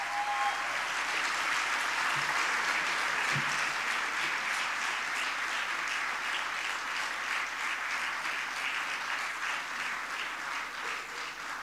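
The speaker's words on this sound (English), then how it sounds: "a big round of applause" A large convocation audience at a university ceremony gives sustained applause for a student honoured with twelve gold medals, a dense, even wash of clapping that stays steady for the whole stretch.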